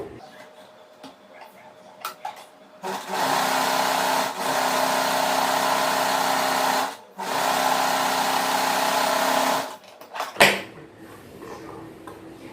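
A sewing machine runs stitches along the edge of cotton cloth for a nightsuit. The motor whirs in two steady bursts of several seconds each, separated by a brief pause, with quieter handling clicks before and after.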